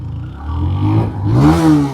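A small 125cc motorcycle engine revs up, its pitch climbing and dipping then rising again as it accelerates, close and fairly loud.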